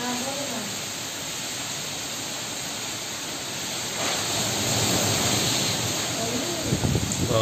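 A cyclonic storm lashes the Konkan coast with wind and heavy rain. It is heard from inside a house as a steady, loud roaring hiss that swells stronger in the second half, with a few gusting bursts near the end.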